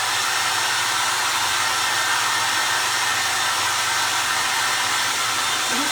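A hair dryer runs steadily, blowing on a wet primitive sunflower craft, a loud continuous whooshing hum held at even strength throughout with no talking.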